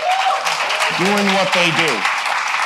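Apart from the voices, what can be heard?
audience applause for three tech CEOs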